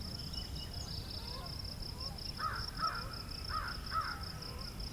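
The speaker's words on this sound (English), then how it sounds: "American crow." An American crow caws four times in a loose series, moderately distant, over a steady background hum and faint insect drone.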